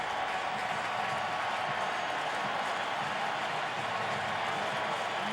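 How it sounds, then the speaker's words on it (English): A baseball stadium crowd at a 2010 NLDS playoff game between Cincinnati and Philadelphia roars in a steady, dense wash of cheering that holds loud and even without a break. "this crowd is revved up again"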